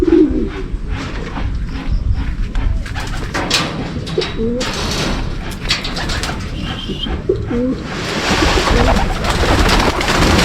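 Pigeons coo close by in repeated soft, throaty phrases. Broad rustling and brief fluttering noise sit underneath, and the bird activity gets busier toward the end.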